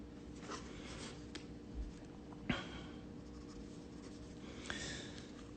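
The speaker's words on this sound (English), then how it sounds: "Gonna add some shadow here. Again, going with like one direction, and then I'll go through and cross hatch that." Pencil scratching on paper while shading and cross-hatching, soft rhythmic strokes with a few sharper taps, close and quiet with no talk.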